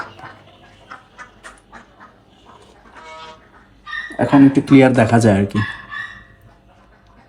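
Farmhouse ducks and chickens, with guinea fowl among them, give scattered soft calls, then a loud, close burst of harsh quacking and squawking lasting over a second; someone talks over the quieter start.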